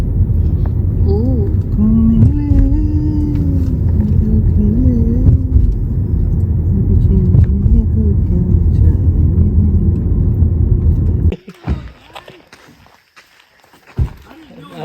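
A car is driven and parked at a state park cabin, its steady low engine rumble running under voices and lively chatter before cutting out abruptly, leaving quieter talk and a few bumps.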